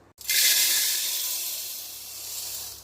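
Coriander seeds, about two kilograms, are dry roasted in a pan. A sudden close hiss starts and then holds as a steady, bright sizzle that slowly eases off.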